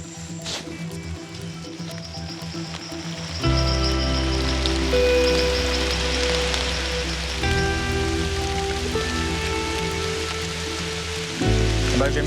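Heavy rain falls in a Colombian forest, a dense continuous hiss of drops that swells abruptly louder partway through, with steady tonal hum beneath and no voices.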